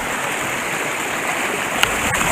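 Steady rushing of creek water fills the air at a summer trout-fishing spot in Allegany State Park, a continuous near broadband wash with no talking and one faint click near the end.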